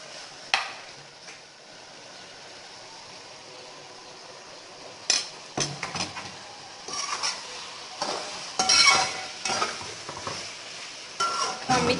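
Okra tipped into a pan of fried onions, with soft sizzling and scattered clinks and scrapes of a spoon against the pan that grow busier toward the end; fairly quiet, with no voices.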